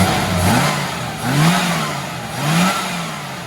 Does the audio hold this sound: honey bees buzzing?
no